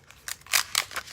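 Scissors snipping cardstock for a handmade card, a quick run of about five crisp close-up cuts in an even rhythm with no talking.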